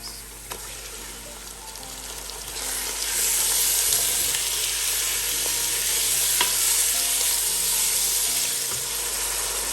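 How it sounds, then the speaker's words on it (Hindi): Boneless chicken pieces fry in garlic-ginger paste, giving a steady, close sizzle that swells louder after the first few seconds, with occasional stirring scrapes and no voices. "चिकन भी अच्छे से फ्राई हो गया।"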